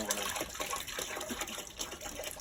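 A rusty part is dropped into a citric acid solution for rust removal, giving a dense, continuous sloshing and splashing of liquid close by, with no talk over it.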